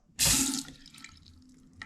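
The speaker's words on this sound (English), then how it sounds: "Now I'm just gonna turn a faucet on and make sure that it's off and let the pressure off." A house faucet is opened to bleed pressure after the water supply is shut off, giving a sudden loud rush of water that tapers into a thinner, sputtering flow with a few drips near the end.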